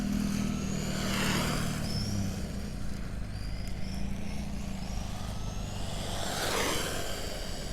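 A Kyosho Lazer ZX-5 RC buggy with a 540-style motor drives nearby, its electric whine rising and falling in passes, fairly faint against a steady background.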